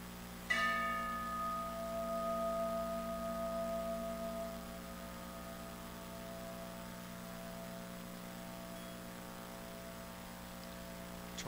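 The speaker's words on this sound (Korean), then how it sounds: "종소리에 귀를 집중해 보세요." A single bell is struck once, its clear metallic tone ringing out and slowly decaying over a long sustained hum, alone and without voices.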